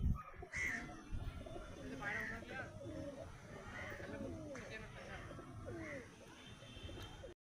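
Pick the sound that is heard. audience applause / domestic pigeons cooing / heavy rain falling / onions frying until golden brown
domestic pigeons cooing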